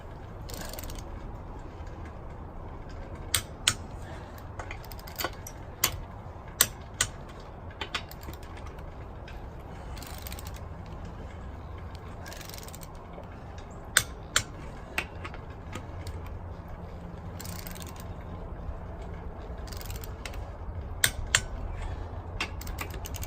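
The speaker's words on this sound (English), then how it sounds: "take our torque wrench and set that to 89 foot-pounds" Torque wrench clicking as the lug nuts on a Subaru Forester wheel are tightened, with about a dozen sharp, separate clicks spaced irregularly over a faint background hum.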